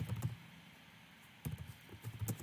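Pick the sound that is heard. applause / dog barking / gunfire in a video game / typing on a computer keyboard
typing on a computer keyboard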